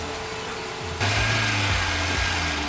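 Hyundai Getz engine idling steadily, then a sudden rev about a second in lifts it to a louder, higher, sustained running tone that holds through the rest, close and alone.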